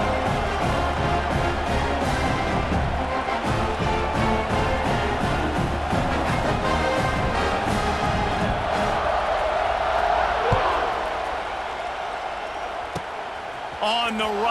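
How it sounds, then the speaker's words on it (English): Stadium crowd in College Football 26 keeps up a dense, continuous roar with cheers rising and falling, then thins out toward the end, while a commentator talks over it. "this crowd is buzzing after that last score"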